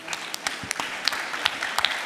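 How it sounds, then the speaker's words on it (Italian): An audience at an energy and climate summit session applauds, a sparse, quick run of distinct hand claps at moderate distance, with no one speaking over it. "Un applauso, vi prego"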